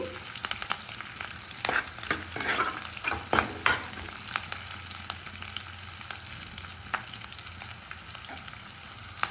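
Onion and masala frying in a pan, a soft steady sizzle broken by stirring scrapes and clinks, heard close with no speech.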